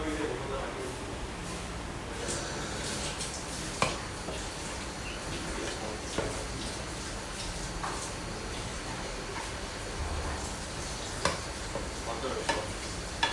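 Mushrooms sauté with a soft sizzle on a small induction cooker, and a utensil scrapes and pushes them toward the center of the pan in irregular strokes under light background noise.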